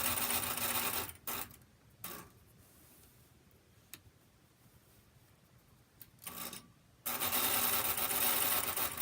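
Domestic sewing machine quilting a Baptist Fan pattern along an acrylic ruler, its steady broadband whir starting and stopping in loud bursts, with quieter pauses between stitching runs.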